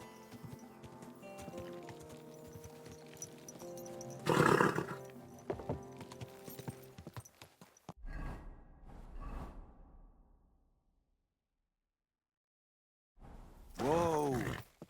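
A horse in a video game clops along at a slow pace and lets out loud neighs and whinnies, first mid-stretch, then again after a stretch of silence near the end.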